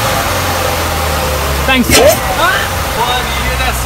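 Supercharged engine and intake of a wrecked, rebuilt 2017 Corvette Z06 rise in a short revving sweep over a steady idle rumble, with people talking and exclaiming over it.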